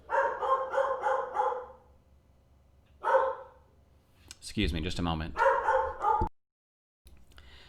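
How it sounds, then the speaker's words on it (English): A dog barks in bursts in the background of an indoor room: a quick run of four barks, then a single bark, then more barks after a person speaks briefly. "there's a dog barking in the background"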